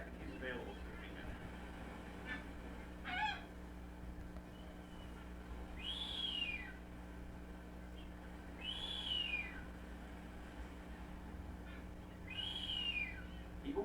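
Three loud, rising-and-falling whistles from a male Nazca booby, spaced a few seconds apart over a steady low hum and faint background murmur.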